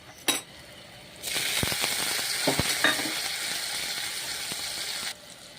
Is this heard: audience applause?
no